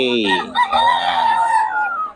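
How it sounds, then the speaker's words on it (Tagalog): A rooster in Bocaue crows loudly and close by, one long drawn-out call with a rising then falling tone. "Ganda ng mga manok ni Boss Russell mga idol"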